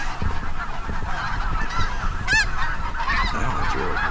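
Snow geese honk while flying overhead, with one sharp, clear honk standing out against a noisy outdoor background and fainter calls scattered around it.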